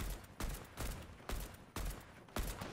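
Rapid bursts of Fortnite gunfire, about six sharp shots in an even rhythm, fairly faint, with no talking.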